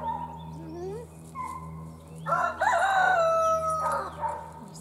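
Chickens crow and call loudly close by, with a rooster-like cry rising in the middle, over a low steady hum.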